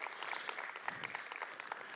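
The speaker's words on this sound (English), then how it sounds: "Let's give her a round of applause." A modest audience claps for a speaker at a talks event, steady, even, somewhat distant applause filling the moment.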